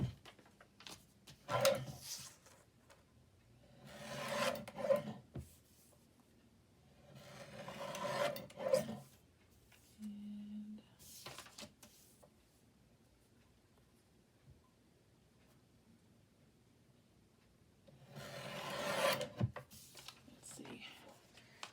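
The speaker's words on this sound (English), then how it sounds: "I'm going to bring out my guillotine, get a couple quick cuts." A paper guillotine trimmer used for a botanical folio makes several separate rasping cutting strokes spread over the span, with quiet gaps and talk between them.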